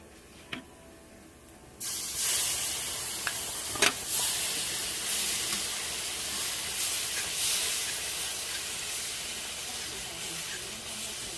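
A quiet stretch gives way to a sudden loud sizzle and hiss as milk hits a hot pan for tomato gravy, steaming steadily with occasional clinks.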